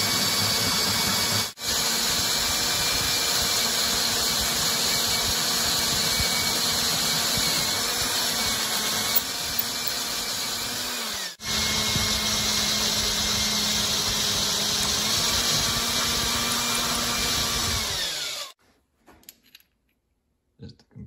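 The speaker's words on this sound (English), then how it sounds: "that's why we need to drill these guys out to 3/8" A power drill steadily bores out dirt bike handlebar mounts to 3/8 inch, a loud continuous whine with two brief pauses before it stops near the end.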